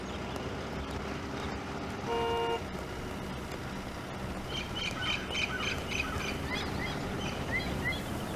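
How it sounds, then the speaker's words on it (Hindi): A car pulls up through steady outdoor noise and gives a short horn honk, followed by a run of chirping, gobbling bird-like calls in the background. "सर गाड़ी की आवाज आ रही है। लगता है एसपी साहब आ गए।"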